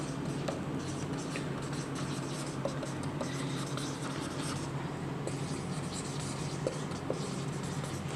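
Writing on a board during a Class 6 maths lesson: a steady, soft scratching of strokes runs under constant room hiss, with a few faint taps and no clear talk.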